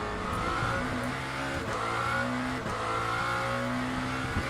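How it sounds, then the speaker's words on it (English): A Lamborghini SC63 race car in Le Mans Ultimate accelerates on the Sebring circuit: a steady, loud engine drone rises in pitch through the gears, with brief dips at each upshift. "When you arrive at the apex, floor the car"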